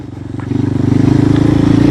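A motorcycle rides along a forest trail lined with mahogany trees, its engine droning with a steady low rumble that grows louder and closer as it passes. No one speaks.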